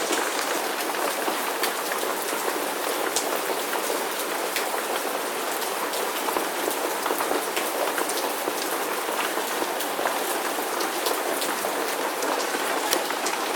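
Steady rain falls in a garden, a dense, even hiss of drops striking leaves and ground throughout, moderately loud and uninterrupted, with no voices.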